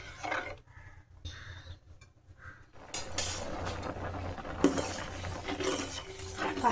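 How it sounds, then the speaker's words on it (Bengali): Spoon stirring rice pudding (payesh) with milk in a pot, with soft intermittent scrapes and clinks at first, then a denser run of scraping and clattering against the metal. "পায়েসের চাল তো আবার তলায় লেগে যায়, সেই জন্য থেকে থেকে একটু নেড়ে দিচ্ছি"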